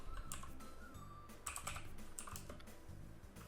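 Keyboard typing on a computer, a few quick keystrokes including a backspace press, close and moderately soft, with short clustered clicks over a steady low hum and no talking.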